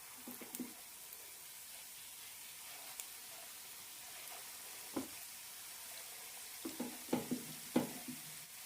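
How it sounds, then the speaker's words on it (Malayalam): Small balls of wheat flour dough dropped into hot oil, a soft steady sizzle with several sharper splashes and bubbling bursts as pieces go in, fairly quiet and without talk. "എണ്ണ ചൂടായിട്ടുണ്ട് കൈ നനച്ച ശേഷം ചെറിയ ചെറിയ ഉരുളകളായി ഇടാം"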